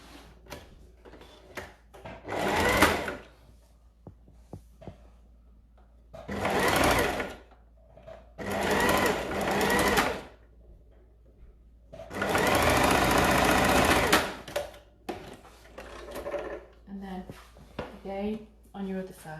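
A sewing machine closes a seam in oilcloth for a make-up bag in several loud bursts of rapid stitching. A person talks quietly in the pauses between runs.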